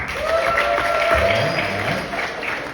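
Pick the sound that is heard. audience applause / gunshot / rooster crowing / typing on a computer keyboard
audience applause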